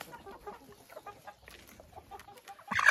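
Chickens and young hens cluck softly and intermittently while pecking at grated apple, with scattered close pecking taps and a louder rustle at the end.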